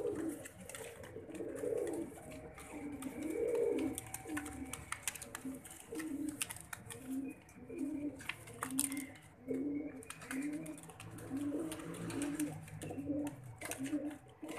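A Kasuri pigeon breeder pair coos softly and repeatedly in a low, rhythmic series of throaty calls, heard fairly faintly against quiet room ambience.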